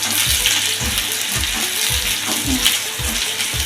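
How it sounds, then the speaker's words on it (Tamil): Chopped onions and green chillies fry in a pan with a steady sizzle, and regular low thumps of stirring repeat roughly every half second. "இப்போ வெங்காயத்தை நல்லா வதக்கணும்"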